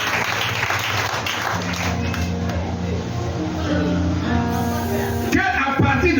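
A congregation at a French-language church service applauds to acclaim the Lord, a steady continuous wash of clapping with music and voices underneath throughout.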